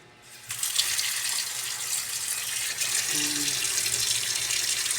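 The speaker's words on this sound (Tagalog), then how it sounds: "Panuin muna natin sa tubig." Tap water gushes into a container for soaking fish before frying, a steady rushing pour that starts suddenly and keeps running at close range.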